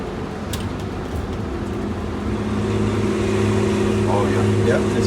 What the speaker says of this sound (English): Go ahead and click your Jake brakes on again.